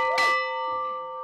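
An old bell dated 1788, in an Edwardian flower garden, is struck once: a sharp metallic strike followed by a clear, sustained ringing tone that slowly fades, close and fairly loud.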